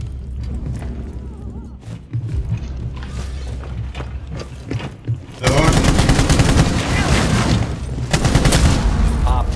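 Gunfire in Rainbow Six Siege, starting as scattered single shots and short bursts, then breaking into loud, sustained rapid automatic fire with sharp cracks, while a player speaks faintly underneath.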